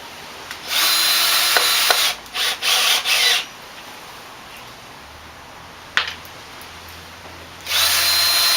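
A power drill drives screws into assembly parts, heard as several short whirring bursts close by with pauses between them and a faint click, no talk.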